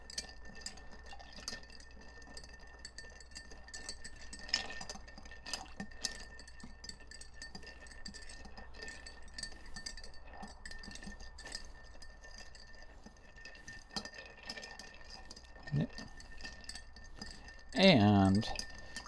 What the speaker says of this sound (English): we're going to give it a stir in our stirring glass.